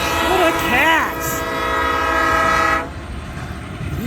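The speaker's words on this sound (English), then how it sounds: "I finally caught me a Loram ballast cleaner" A train horn blares with rich sustained tones while a Loram ballast cleaner rail vehicle rumbles past nearby at Ladysmith, then the horn cuts off and the rolling noise continues.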